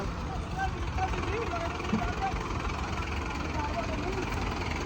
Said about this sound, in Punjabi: ਉਹ ਟਰੈਕਟਰ ਸਿੱਧਾ ਲਾਓ ਯਾਰ